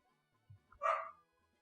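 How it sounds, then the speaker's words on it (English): A dog gives a single short bark, faint and somewhat distant, with a soft yip just before it in an otherwise quiet room. "I gotta check on these dogs"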